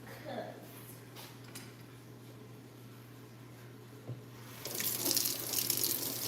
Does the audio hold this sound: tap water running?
yes